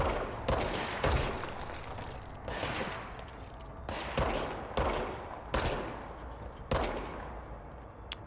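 Enemy gunfire in the game Control cracks out in a series of loud, sharp bursts spaced about a second apart, each dying away into an echoing tail.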